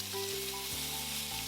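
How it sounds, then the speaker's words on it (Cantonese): Tomatoes sizzle in a wok heated with a little oil over medium-high flame, a bright, continuous frying crackle with no voices over it. "用中大火燒熱之後，就將啲番茄放晒落鑊爆香佢"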